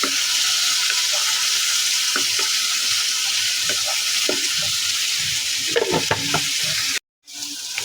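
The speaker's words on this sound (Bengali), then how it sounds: "এই যে মশলাটা দেখো একদম ভাজা ভাজা হয়ে গেছে।" Spice paste with turmeric and chili powder sizzling steadily in oil in a pan while a spoon scrapes and stirs it in irregular strokes, close and loud, ending in a brief cutout.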